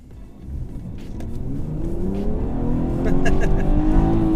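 A BMW 340i xDrive accelerating hard on snow, its engine note rising steadily and growing louder over a few seconds, heard from inside the car with no talk.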